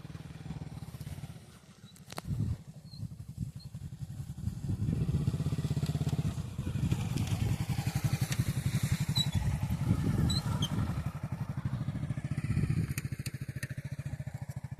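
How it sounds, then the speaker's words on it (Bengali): Motorcycles idle and rev at a riverside boat crossing, a close, continuous engine rumble that builds after a brief lull and keeps chugging steadily to the end. "সকলে আসে বাইক নিয়ে"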